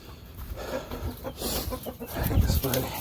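Chickens cluck and squawk close by in short, uneven bursts amid scuffling, with people talking intermittently over the birds.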